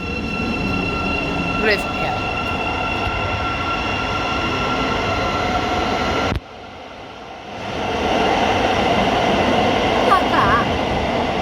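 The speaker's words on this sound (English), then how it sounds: "10:43 to Luton is now departing" A Thameslink Class 700 train pulling out of St Pancras low-level platforms, a loud, steady rumble with a whining drive tone and faint squeals that cuts out sharply and then swells back, while a person speaks briefly nearby.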